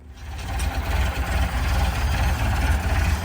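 A heavy forklift engine rumbles steadily at close range, its low throb holding a constant idle with a broad mechanical hiss over it.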